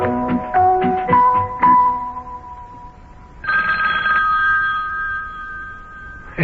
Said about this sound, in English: telephone's ringing again